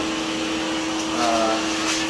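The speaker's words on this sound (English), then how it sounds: "I'm just going to use a vacuum to vacuum up the bits" A vacuum cleaner runs continuously with a steady loud whine while sucking up debris from a bathtub during a tub resurfacing job, with brief shifts in tone as the hose moves.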